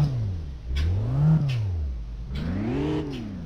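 Car engine in the City Car Driving video game starting and revving, with two clear rising-and-falling rev sweeps from a mid-pitched engine, loud and close with no voices.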